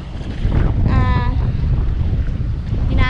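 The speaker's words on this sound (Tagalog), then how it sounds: "Ang lakas ng hangin, oh." Strong wind buffets the microphone on an island shore by the sea, a loud, constant roaring rumble, with a brief voice speaking over it and a boat nearby.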